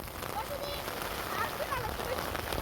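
Rain patters continuously on a nearby surface, with faint chirping and a voice briefly audible underneath the steady wash.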